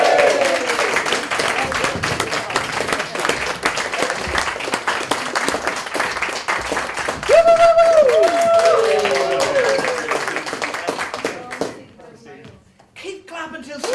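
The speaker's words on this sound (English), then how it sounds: "Keep clapping till she" An improv comedy crowd claps steadily for an extended stretch, loud and dense, with voices and a sung or called-out tone over the middle before the clapping drops away abruptly near the end.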